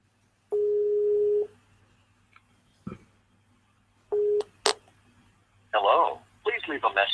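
A telephone rings out through a handset in a long tone, a pause, then a second shorter tone, followed by clicks and a burst of speakerphone voice.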